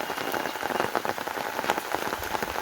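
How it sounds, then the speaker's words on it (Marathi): Heavy rain pours steadily while people walk out to a shop, a dense even patter of drops on surfaces filling the scene close by and continuous, with no voices. "पाऊस पडतोय मजबूत"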